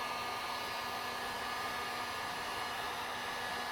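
A heat gun blows a steady, even hot-air roar over an old vinyl floor tile stuck to a subfloor, held at a moderate distance. The noise stays loud and unbroken throughout, with no talking.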